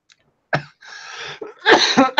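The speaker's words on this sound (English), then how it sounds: "I'm trying to hold back my coughs real bad" Several harsh, close coughs in quick succession, separated by brief pauses and short raspy breaths.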